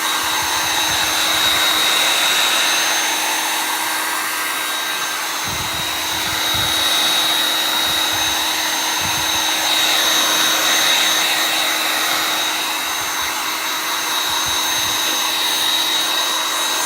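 A hair dryer runs steadily for the whole stretch, blowing over a freshly waxed wooden Chalk Couture block, its motor whine even and fairly loud, with slight swells in airflow and no one talking.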